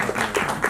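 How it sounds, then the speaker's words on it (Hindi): Audience applause at a film trailer launch event: a short burst of clapping from a crowd, steady and moderately loud, with no voices over it. "Thank you so much for तालियां"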